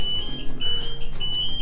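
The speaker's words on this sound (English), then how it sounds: "Try to move it, it will beep at you." A locked Mankeel MK086 electric scooter beeping as it is moved: repeated high, piercing electronic alarm tones in short bursts, close and fairly loud.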